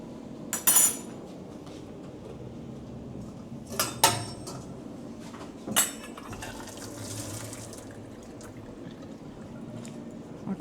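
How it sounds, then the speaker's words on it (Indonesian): Cooked Indomie noodles drained in a metal pot: scattered clanks and knocks of the pot and utensils, with a brief rush of pouring water midway and a quiet kitchen background. "Lalu sekarang Indominya aku tiriskan ya."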